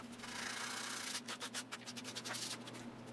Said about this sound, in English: So I attacked each one with some sandpaper to break off the sharp corners.